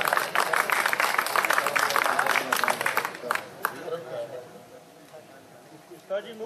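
Audience applause at an Urdu-Saraiki mushaira for poet Mazhar Niazi in Mianwali, Punjab, a dense burst of clapping over the first three seconds that thins out and fades, leaving a few scattered claps and quiet murmur.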